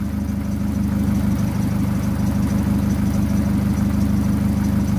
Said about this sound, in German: Jetzt hört man nur noch den lauten Auspuff